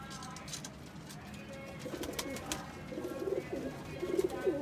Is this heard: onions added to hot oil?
no